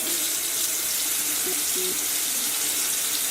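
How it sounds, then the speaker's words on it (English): Water runs steadily from a tap for washing makeup brushes, a loud continuous rushing splash close by, with faint tonal hums underneath and no talking. "The first thing I like to do is just turn on the water"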